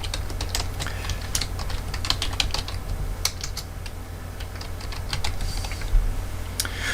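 Fast, irregular clicking of a computer keyboard as a description is typed into accounting software, close and clear, continuing steadily with brief pauses and no talk.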